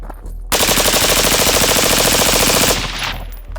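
Rifle fire at a shooting range: one loud, close, sustained burst of rapid automatic shots lasting about two seconds, ending with a fading echo.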